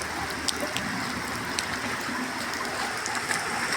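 Steady rain pours down in Izmir, a dense even hiss with occasional louder drops or splashes, continuous throughout with no voices.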